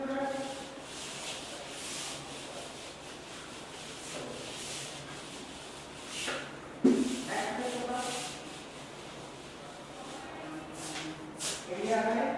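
Steady rubbing as a classroom board is erased during a Class 4 maths lesson, soft scraping strokes repeating under a teacher talking throughout.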